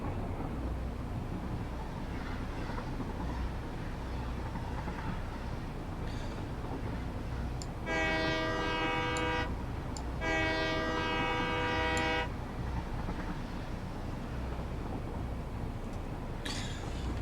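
A train in the video game Satisfactory rumbles steadily across desert sand dunes, and its horn sounds two long, loud, tonal blasts a moment apart over the continuous running noise.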